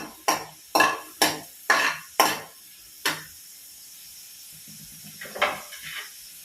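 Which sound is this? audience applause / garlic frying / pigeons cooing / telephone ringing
garlic frying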